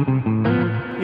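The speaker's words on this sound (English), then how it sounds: "If I add the overdrive to it, you don't lose the signal of the guitar at all." An electric guitar through an Analog Alien overdrive pedal plays sustained notes with an overdriven, slightly distorted tone, bright and full, ringing continuously with a chord shift midway.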